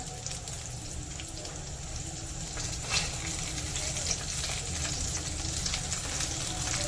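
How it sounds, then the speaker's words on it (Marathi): Bombay duck (bombil) coated in green masala frying crisp over a low flame, a steady soft sizzle with faint crackles and pops running evenly throughout, no voices. "आपल्याला हे बोंबील क्रिस्पी करायचे आहेत त्यामुळे आपण ते मंद आचेवरच ठेवणार आहोत"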